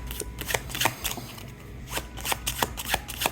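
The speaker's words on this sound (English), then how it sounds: "you can now tell them to shuffle this packet up as much as they'd like" Playing cards being shuffled close by, a steady run of crisp riffling flicks and snaps with brief pauses in between, no voices.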